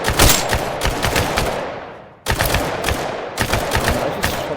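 Bursts of rapid automatic gunfire from the VR shooter game Tactical Assault VR, three loud volleys with a brief gap between them and no talking.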